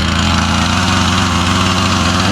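A Husqvarna chainsaw engine runs steadily up close, giving a loud, continuous buzzing drone with no talk over it.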